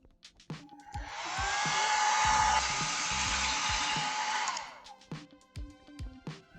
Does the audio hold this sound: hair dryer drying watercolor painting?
yes